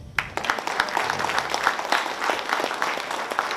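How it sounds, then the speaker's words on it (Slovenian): Audience applause at a book event fills the room, a dense, steady patter of many hands clapping at close range with no pauses. "aplavz za Marka"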